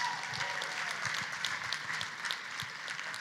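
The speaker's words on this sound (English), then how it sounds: "Ed, nice round of applause for Ed, please." Steady, fairly faint applause from a gala audience at a charity celebration evening, a continuous patter of many hands without pause.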